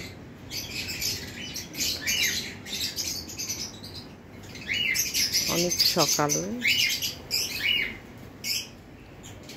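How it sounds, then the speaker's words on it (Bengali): Birds chirp and tweet busily around a rooftop garden early in the morning after days of rain, with a brief nearby bird trill in the middle and a few quiet spoken words. "পাখির কিচিরমিচির আওয়াজে একদম ঘুম ভেঙে গিয়েছে।"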